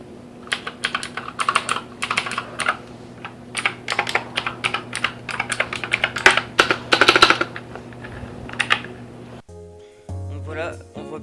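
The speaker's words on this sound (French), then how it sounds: "vous fait directement écouter le bruit d'un switch blue" Rapid, clicky typing on an HP Omen 1100 mechanical keyboard with blue switches, with irregular bursts of sharp key presses over a low steady hum, ending in a brief different tonal sound.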